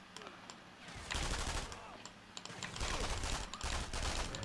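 Gunfire in the video game Sniper Elite III crackles as a continuous, dense barrage of rapid shots that swells louder partway through and keeps rattling steadily to the end.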